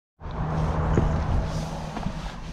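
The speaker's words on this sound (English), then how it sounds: "So we're setting off here in this lifted Mazda CX-5" A lifted 2023 Mazda CX-5 Explore Edition pulling away from a standstill, a steady low engine and road hum from inside the cabin that rises suddenly and holds at moderate level, with a small knock midway.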